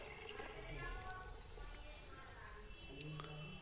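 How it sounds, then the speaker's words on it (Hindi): Water runs steadily into a Jaquar concealed flush tank, a faint continuous trickle and hiss from close by, with someone speaking over it. "अब देखिए पानी हमारा टैंक के अंदर फिल हो रहा है"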